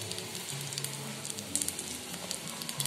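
Fish frying in hot oil in a home kitchen, a steady close crackle and sizzle with scattered sharper pops throughout, no talking.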